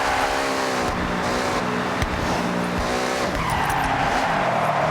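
A car in Forza Horizon 6 drifts under a loud, steady engine roar, its tires squealing continuously as it slides and holds the angle through corners.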